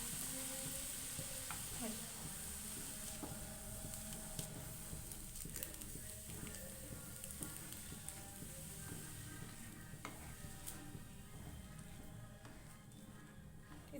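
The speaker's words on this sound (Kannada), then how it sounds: "ಹಾಲು ಸೇರಿಸ್ಕೊಂಡು ಚೆನ್ನಾಗಿ ಮಿಕ್ಸ್ ಮಾಡ್ಕೊಳ್ಳೋಣ" Semolina (rava) and milk are stirred together in a pan for mango rava burfi, giving a steady, close-up scraping and soft sizzling hiss that runs unbroken for the whole stretch, with no voices.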